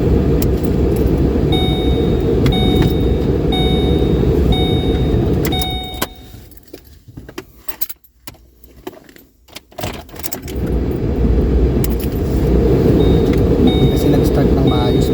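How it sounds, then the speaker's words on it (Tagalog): A car starts in a snowy Canadian winter setting after a check-engine warning earlier, with keys jangling. A steady interior hum drops out briefly during the crank, then returns with the engine settling into an idle, heard close. "Sabihin ko nag-start na maayos yung sasakyan natin."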